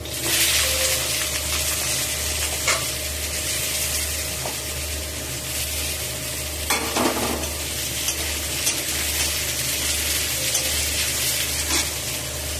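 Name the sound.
potatoes frying in a wok with dried chilli, cumin, five-spice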